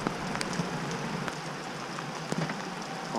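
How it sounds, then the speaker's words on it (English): Rain falling over an RV campsite makes a steady, even hiss, with scattered sharper drop ticks hitting nearby surfaces and no voices. "hear the rain fall. It's gonna do this all day."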